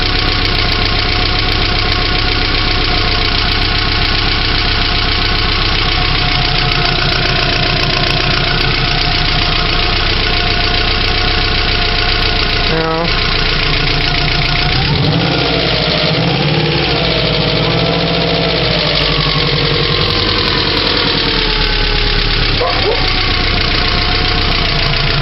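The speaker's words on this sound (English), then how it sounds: "Hydraulic lifters are going to take some time to pump back up. That's what all the clacking noise is." A Subaru EJ22 engine runs steadily at its first start after being reassembled, with clacking hydraulic lifters ticking rapidly over the constant mechanical drone. It is loud and close, with no talk.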